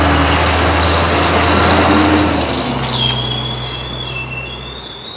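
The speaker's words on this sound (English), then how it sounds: "Now that was a loud garbage truck." Garbage truck passing loudly through a home garden area, a heavy rumbling engine roar that fades as it moves away, followed by high whining brake squeals near the end.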